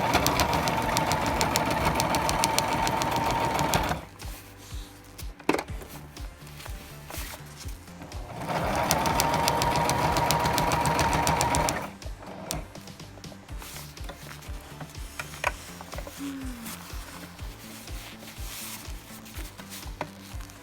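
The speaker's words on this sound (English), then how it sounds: "And then I'm just going to continue to sew along that elastic." A home sewing machine runs in two long steady bursts, stitching cased elastic into PUL fabric for a cloth diaper, its whirring motor hum broken by a pause of clicks and handling noises between runs.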